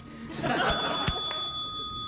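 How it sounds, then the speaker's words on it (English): A small handheld bell is struck once, giving a bright, ringing ding that sustains and slowly decays, with faint chuckling in the background. "Let's ding the bell."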